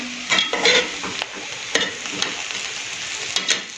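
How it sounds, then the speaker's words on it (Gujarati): Pulao masala is stirred into palak paneer pulao in a pot, with a few scraping spoon strokes and soft clinks over a faint sizzle, close and with no talk. "હવે આપણે ઉપરથી પુલાવ મસાલો એડ કરી દઈશું અને આને એકવાર મિક્સ કરી દઈશું"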